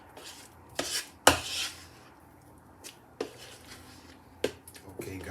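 Ackee and pork skin are mixed together in a bowl, giving a few sparse, close clinks and scrapes of a utensil against the dish with quiet gaps between them.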